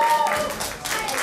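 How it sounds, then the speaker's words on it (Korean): An audience claps briefly for a student's final presentation at a school end-of-term event, a short burst of mixed clapping with some voices or cheering underneath. "박수!"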